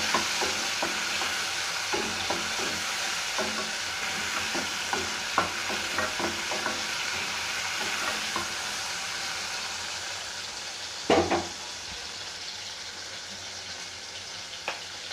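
Tomatoes frying in a pan for tomato pepper rasam, a steady close sizzle with intermittent scraping clinks of a spoon stirring, and one louder knock near the end.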